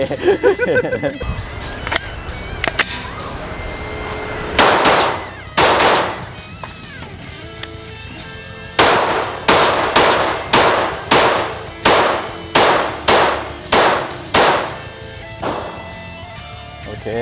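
A Glock 19 Gen 5 pistol fitted with a Demon Arms compensator fires over a dozen loud, sharp shots close by, first a few spaced apart, then a quick rhythmic string, with faint voices early on.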